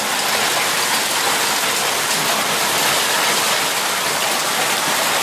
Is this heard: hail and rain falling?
yes